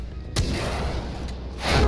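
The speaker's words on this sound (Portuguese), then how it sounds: "Nossa senhora, que susto que eu tomei com o tiro dele" Enemy gunfire in the video game Far Cry 4, with two loud sharp shots in quick succession over a noisy background rumble.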